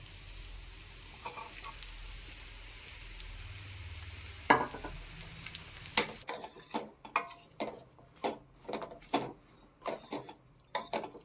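Mango pieces tossed into half-cooked carrot pickle in a hot pan: a low sizzle gives way to a run of close, loud scraping stirs and clinks of the spoon against the pan, with no talking.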